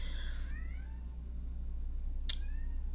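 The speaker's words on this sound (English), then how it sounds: "Oh, I think my cat stuck out on the balcony." A pet cat shut outside on a balcony meows in two drawn-out, rising calls, the second brief and sharp, faint and somewhat distant over a steady low electrical hum.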